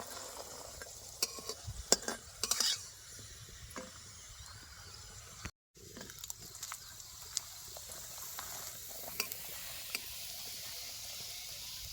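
Bean-stuffed parathas fry in a pan, village style, giving a soft, steady sizzle with scattered utensil clinks and scraping, fairly faint throughout and with a brief dropout midway.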